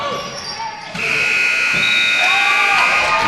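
A long, steady buzzer sounds in a gym to end the third quarter of a girls' high school basketball game, droning for over two seconds over crowd noise and a commentator's voice.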